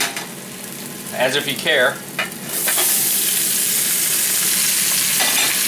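Vegetables for pepper steak hit hot olive oil in a wok on maximum heat, first with brief stirring clatter and a voice, then erupting into a loud, steady, close sizzle that holds to the end.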